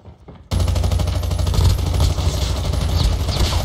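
Rapid, continuous automatic gunfire in Call of Duty Mobile, played on the GameLoop emulator, erupts after a brief quiet start and rattles on loudly and densely as the machine gun is held down.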